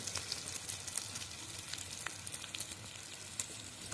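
Spices for a soybean curry sizzle and crackle steadily in hot oil as they are fried, with a close, continuous hiss and scattered pops throughout.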